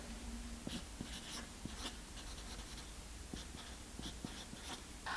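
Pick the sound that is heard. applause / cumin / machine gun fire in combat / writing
writing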